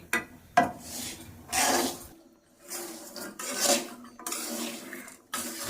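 Peanuts roasting with salt in a pan, stirred in repeated scraping, rasping sweeps with gritty rattles between pauses, close and moderately loud.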